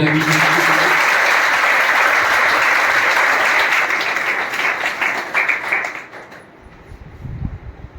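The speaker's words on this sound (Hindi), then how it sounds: "तो इसके लिए एक बार सभी बच्चे तालियां" Sustained applause from a group of children at a youth parliament event fills the room for several seconds, then fades to scattered claps and quiet.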